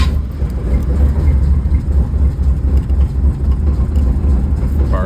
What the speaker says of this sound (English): Fired right up.